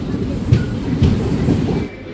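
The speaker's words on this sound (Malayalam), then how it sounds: "ഇവിടുന്ന് ട്രെയിന് സ്പീഡ് എടുത്ത് തുടങ്ങും ഈ പാലം കഴിഞ്ഞാണ് തന്നെ" An Intercity superfast express train picks up speed after a bridge between Mangaluru and Kasaragod, with a steady low rumble and rhythmic wheel clicks on the rails, heard close from inside the carriage.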